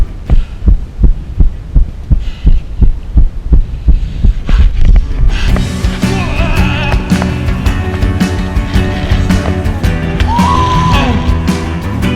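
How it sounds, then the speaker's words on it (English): A person's heartbeat thumps in a steady, loud, regular pulse for about five seconds, recorded close against the chest after a huge rope swing, then gives way to dense, continuous music. "Listen closely as you can hear my friend's heart beating through his chest."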